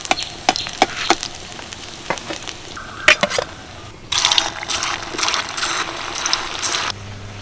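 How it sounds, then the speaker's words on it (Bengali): Soybean balls fry in hot oil, a steady sizzle broken by scattered clicks and knocks of a utensil, with a louder, denser burst of bubbling in the second half. "বাকি সয়াবিনের বলগুলো ভাজা হতে থাকুক"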